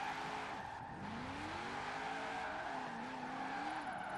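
A Mazda RX-7 in the Forza racing video game revs up and down with a wavering engine note while its tires skid and squeal across several seconds, at a low, steady level with no speech.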